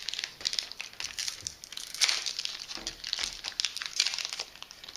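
Thin plastic packaging bags holding pink soft-bristle replacement toothbrush heads crinkle and rustle continuously, with sharper crackling bursts near the middle and end, close up and alone.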